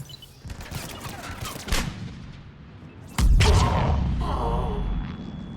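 Rapid gunfire crackles through a Mass Effect 3 battle on Omega, with bursts of automatic weapons and heavier booming shots, building into a dense, loud continuous barrage in the second half.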